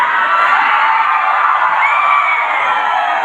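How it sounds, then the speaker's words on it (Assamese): A large crowd at a village Bihu fair cheers, shouts and claps together in a continuous loud, dense roar that holds steady throughout. "আমি নামোতে যি উৎসাহ ইমান ধুনীয়াকৈ হাত চাপৰি চিঞৰিছে"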